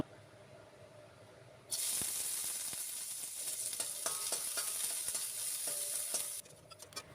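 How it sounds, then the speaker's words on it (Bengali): Dry fruits hit hot ghee in a wok and burst into a loud, steady sizzle that holds for several seconds with faint stirring scrapes, then cuts back to quiet background. "প্রথমে কড়াইতে একটুখানি ঘি গরম করে এর ভেতরে ড্রাই ফ্রুটস ভেজে নেব"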